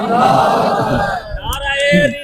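A crowd at a Milad gathering shouts a short religious slogan in reply to a Naara-e-Takbeer call, a brief loud massed cry mixed with the leader's voice.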